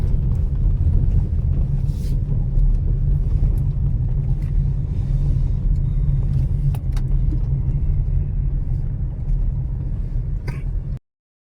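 A Tata Tigor sedan drives over rough terrain, its steady low road rumble and engine noise continuous and close for about eleven seconds, with faint knocks and thumps from the suspension.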